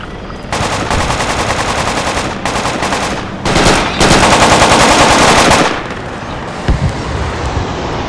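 Loud automatic rifle fire in the video game Project Reality, several long rattling bursts separated by short pauses, followed by a few scattered single shots.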